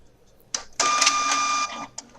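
A printer runs a motif pattern design sent from a computer drawing lesson: a short mechanical burst, then a steady whirring, high-pitched print pass of about a second, ending with a brief click, close and alone.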